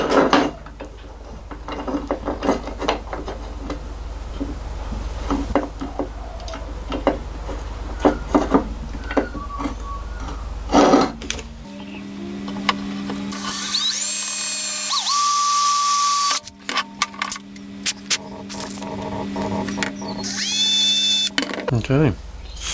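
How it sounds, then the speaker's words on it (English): A power drill boring a 2mm hole through a diesel injector return line fitting, heard as a whining drill run in the second half with a sustained high-pitched tone and mechanical clatter, after earlier workshop handling noises. "I'll grab a drill and I'll drill a hole through there"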